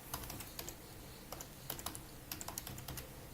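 Quiet, close keystrokes on a computer keyboard as a Linux touch command is typed, an irregular run of light clicks with short pauses.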